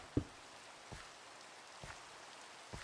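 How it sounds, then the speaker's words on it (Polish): Rain falls in a forest on a stormy night, a faint, steady patter with a few louder individual drops landing close by, and no voices. "ale jeszcze deszcz pada"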